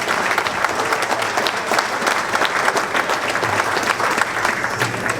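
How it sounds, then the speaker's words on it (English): A room full of people applauds steadily for a football presentation guest, dense clapping sustained and loud throughout with no letup. "Can we give another round of applause for Juan Lewis?"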